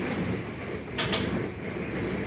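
A Melbourne Metro train rumbles along the track in a steady loud roar from inside the carriage, with a brief burst of hissing clatter midway.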